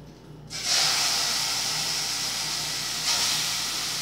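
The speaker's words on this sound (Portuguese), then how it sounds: "fritando." Beef liver starts frying in a hot pan with a sudden loud sizzle that rises after a brief quiet moment and then holds as a steady hiss, swelling once more near the end.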